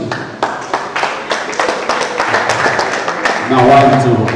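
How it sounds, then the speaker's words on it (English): An audience applauds at a live-streamed college event, with scattered rhythmic claps under loud talk, building into fuller applause near the end. "A round of applause for them again."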